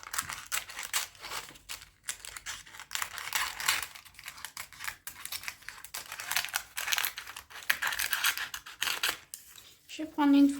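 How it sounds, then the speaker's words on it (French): Scissors snip through excess baking paper lining a tart tin, a run of crisp, close cuts and rustles with brief pauses, ending in a short clatter. "je vais couper l'excédent de papier"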